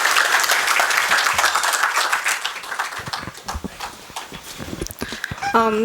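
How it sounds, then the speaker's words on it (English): Audience applause after a public lecture on India in search of glory: dense clapping for about three seconds, then thinning into louder scattered individual claps, with a brief vocal sound at the very end. "So please give him a warm applause for his talk."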